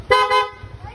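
An aftermarket loud horn on a Mio i 125 scooter gives two quick, loud, close blasts, the second slightly longer, followed by quiet background.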